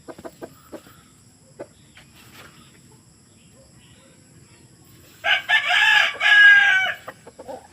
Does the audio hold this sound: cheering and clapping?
no